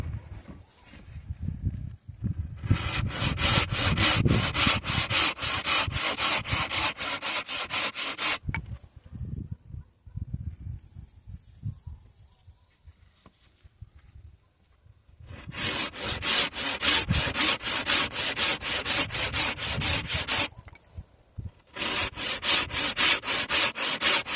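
A handmade Ukrainian hand saw cuts through wood in two long bursts of rapid, rhythmic rasping strokes, separated by a quiet pause with faint handling noise, close and fairly loud.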